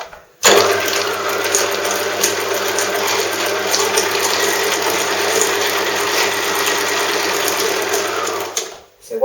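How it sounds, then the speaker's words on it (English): A Bernina domestic sewing machine winds thread onto a bobbin with a steady, close whirring hum that runs for about eight seconds, then cuts off abruptly. "So once you've wound your thread onto your bobbin, move it across and then it will come off."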